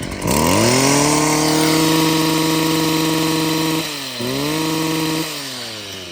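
A STIHL FS55C petrol grass trimmer engine runs close and loud with a steady high buzzing whine, dipping briefly near the end before revving back up, then easing down.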